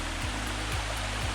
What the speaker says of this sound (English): little mini waterfalls all the way through, flowing down